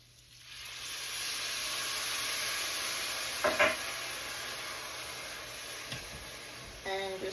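Wine splashes into a hot pan of risotto rice toasting in butter, setting off a loud, steady, close sizzle and hiss that holds for several seconds, with a few brief stirring clinks and scrapes.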